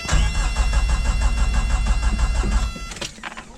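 A diesel Suzuki Samurai engine cranks steadily with a rhythmic starter churn for about three seconds but never catches, then stops, leaving a few clanks and rattles.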